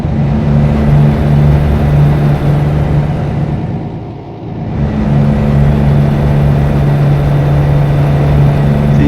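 Volvo truck engine and exhaust in American Truck Simulator, a loud, steady low drone with strong tonal hum that dips briefly mid-way, as if easing off the throttle, then swells back to full volume.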